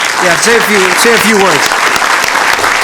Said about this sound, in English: a big round of applause for one of our strong Starch community leaders, Linda Ng